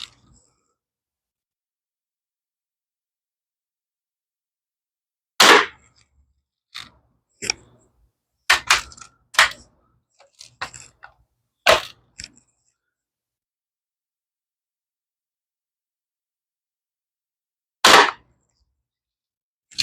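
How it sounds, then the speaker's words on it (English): An 840 air gun fires at an egg carton target, sharp cracks spread across the stretch with several closer transients in a cluster mid-way and another isolated crack near the end, outdoors with quiet gaps between. "There we are, 3 shots from the 840."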